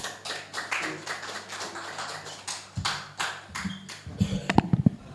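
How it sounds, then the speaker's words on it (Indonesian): Scattered handclaps come from a small crowd at an Indonesian discussion forum. The claps are irregular and sparse, growing into a brief cluster near the end. "Tepuk tangan, silakan."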